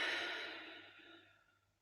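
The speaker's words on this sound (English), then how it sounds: "Take a big inhale through your nose and exhale through your mouth." A single slow breath drawn in and let out, soft and close, fading steadily over about two seconds in a quiet room.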